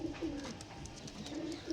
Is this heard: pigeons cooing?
yes